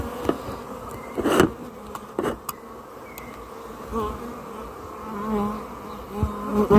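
Honeybees buzz across a hive frame during an open inspection, a dense, steady hum with occasional louder passes as individual bees fly close to the listener.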